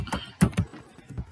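Computer keyboard keys tapped in a short burst of a few clicks, close and fairly quiet, entering a number into drafting software.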